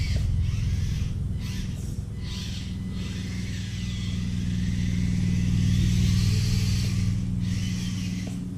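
An Axial SCX24 1/24 scale RC crawler truck climbs an incline, its small electric motor giving a close, steady buzzing whir with low rumble that rises and falls slightly as it works for grip.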